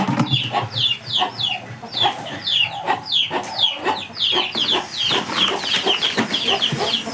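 An Abras breed chicken on a farm clucks in quick repeated bursts, close and clear, with faint rustling and no talk.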